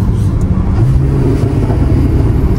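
A Porsche Cayman S 981 with a manual gearbox drives by as a loud, close engine hum with a slight rise and fall through a downshift, short and steady.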